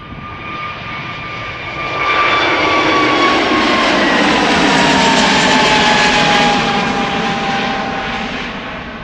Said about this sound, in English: that is an A350 from Delta in the background